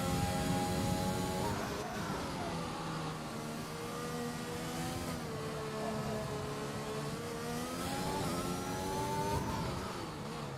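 A Williams racing car engine on a hot lap around Monaco in a video game, a sustained high whining drone that rises and falls with gear changes and throttle, heard steadily throughout.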